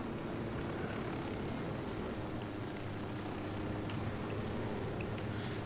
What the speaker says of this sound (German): Das ist ein Heli von denen.